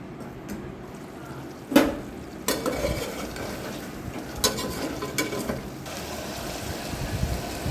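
Mutton fry being stirred in a pan, with a spoon scraping and clinking against the metal over a low sizzle, including one sharp knock and several rapid scraping passes.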